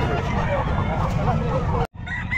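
Chickens clucking at a busy pet market in Calumpit, Philippines, steady and close, with people talking over them before a brief cut near the end.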